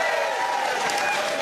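A comedy club audience applauds and cheers in a sustained burst of clapping that stays steady and fairly loud for a moment.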